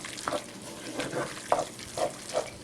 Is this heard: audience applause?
no